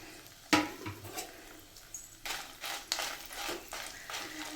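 Dried red chillies fried in hot oil for an Andhra-style peanut chutney: a soft, continuous crackle broken by sharp spatula clicks and scrapes against the pan, close by and with no talk.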